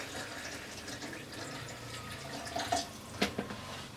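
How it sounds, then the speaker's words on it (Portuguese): Warm water is poured into a bowl for stuffed bread dough, a soft trickling stream that ends with a few louder splashes and drips, close and quiet, with no talking. "Então, 300 ml de água morna."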